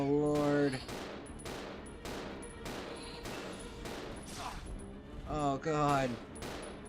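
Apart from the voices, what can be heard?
gunfire from video game Resident Evil 0 HD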